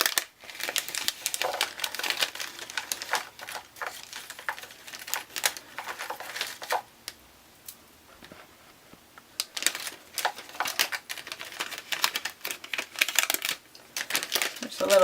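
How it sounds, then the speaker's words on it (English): Plastic packaging from a Felicity Jane die-cut kit being handled and crumpled, with loud close bursts of crinkling in irregular clusters and a quieter pause midway. "I'm going to throw away the packaging for that"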